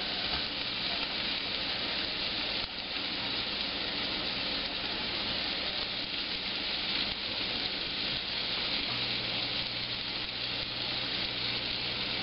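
Breaded mahi fish fillets fry in a pan with a loud, continuous close sizzle and crackle, steady throughout with a low hum underneath.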